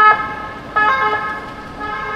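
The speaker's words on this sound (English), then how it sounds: "You hear that ambulance thing?" An ambulance siren passing along a wide Barcelona street, its tonal wail moderately loud over traffic and street noise, rising and easing across a couple of seconds.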